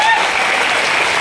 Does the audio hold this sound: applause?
yes